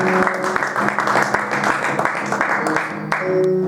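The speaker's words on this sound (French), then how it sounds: "Est-ce qu'on peut acclamer pour le Seigneur?" A church congregation at a French-language service bursts into loud, steady applause with scattered cheers, close and filling the room, while background music plays.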